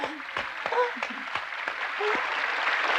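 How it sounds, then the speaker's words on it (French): At a Christmas concert, scattered sharp claps quickly thicken into a dense wash of enthusiastic applause, with voices heard among the clapping. "Les applaudissements furent frénétiques, les bravos et les encore jaillissaient de toutes parts"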